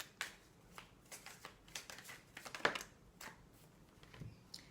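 Tarot cards are shuffled and drawn at close range, giving soft riffling flutters and sharp card snaps in an irregular rhythm over several seconds. The room is otherwise quiet.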